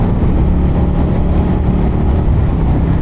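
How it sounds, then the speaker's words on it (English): A 2023 Suzuki SV650 motorcycle engine drones loudly and steadily through a stock exhaust, dense and unbroken, with a rough low rumble. "You heard more from the actual engine itself than the exhaust."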